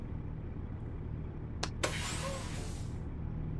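Air brake on a truck in American Truck Simulator gives two short sharp hisses followed by a longer burst of released air lasting about a second, over a steady low engine idle.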